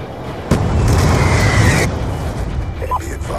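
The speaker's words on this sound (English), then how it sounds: "Hellstorm missile inbound." A Hellstorm missile explodes in Black Ops 2 on the Nuketown 2025 map, a sudden loud boom followed by a roaring rumble that fades after about a second, with game voices afterward.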